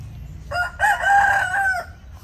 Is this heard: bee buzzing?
no